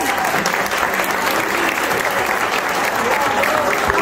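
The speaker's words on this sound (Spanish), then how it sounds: "pedirles un aplauso para todos ellos" Sustained, dense applause from a crowd at a gathering of Mexicans living in the US, steady and loud throughout with no break.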